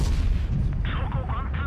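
In World of Tanks Blitz, a tank cannon shot from a Ho-Ri Type II booms, a loud, low blast followed by a short rumble and in-game tones, with a voice speaking briefly over it.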